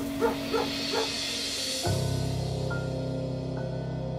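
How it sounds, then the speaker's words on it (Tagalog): A pet dog near a banana grove gives three quick barks, then a steady low droning tone takes over for the rest. "Lalong lumakas ang pagtahol at pag-angil ng alaga kong aso habang nakatingin sa sagingan."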